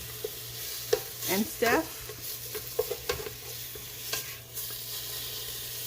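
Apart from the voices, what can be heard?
bacon cooking in a soup pot, stirring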